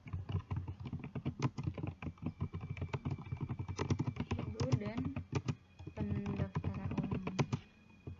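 Quick, uneven keystrokes clatter on a computer keyboard while someone enters text, close by and continuous under a person talking.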